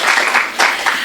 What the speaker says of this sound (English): let's give a hand to us and how much we love her